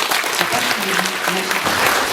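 An audience at a formal ceremony for Defenders of Ukraine Day applauds in a dense, even burst of clapping that holds steady throughout, with faint voices mixed in underneath.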